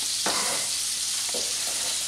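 Butter melts in a pan with a continuous close hiss and sizzle, marked by two brief scraping stirs, and no voices over it.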